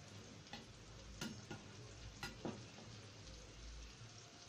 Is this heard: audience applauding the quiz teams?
no